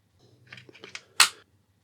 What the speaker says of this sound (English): put the cassette back into the back of the rifle. So we're just going to slide that in place